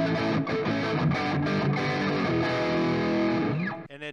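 A heavily distorted electric guitar through a Valeton GP-100 multi-effects processor plays chugging chords and sustained notes through processed effects, loud and continuous before stopping suddenly at the end.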